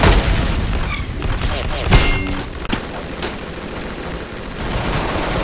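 Rapid video game gunfire with rocket launcher blasts, loud bursts of shots and booming thumps crowding together, with a player talking over the action.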